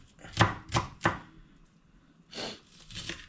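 Onions are cut with a knife on a board, a few sharp separate chops followed by a couple of softer, duller cuts, close and otherwise quiet.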